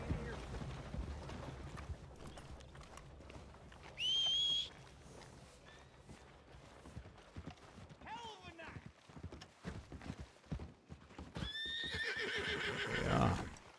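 Horses whinnying near horse-drawn carriages in a Wild West video game, with clip-clop hooves, two sharp neighs standing out, and voices talking over the scene.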